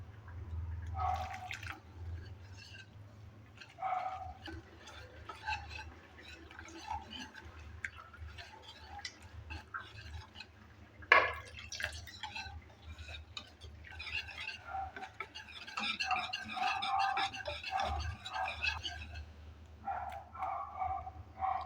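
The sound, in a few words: water being added and mixed into besan (gram flour) batter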